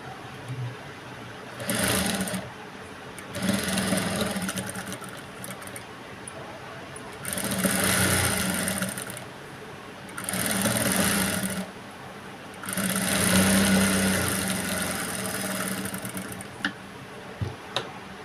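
Domestic sewing machine running a double stitch along a blouse seam, in several separate bursts of rapid whirring stitching, with quiet pauses between runs, close and fairly loud.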